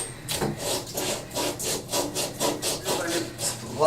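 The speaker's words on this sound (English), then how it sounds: "Take a little sandpaper and just make sure you have it pretty clean." Sandpaper rubbed back and forth on a pipe before an angle stop goes on, a steady run of about a dozen quick, close, raspy strokes with no talk.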